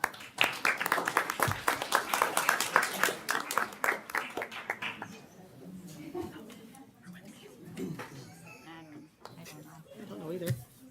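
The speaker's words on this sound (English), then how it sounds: "we will give you one more round of applause" A burst of loud clapping and applause from a crowd that fades after a few seconds, giving way to quieter murmuring voices.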